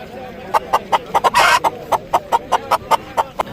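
Live chickens at a market cluck in a steady series of short, sharp calls, close and fairly loud, with a brief burst of noise among them.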